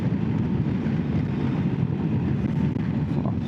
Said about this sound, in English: I still can't believe this wind. It's very, very breezy.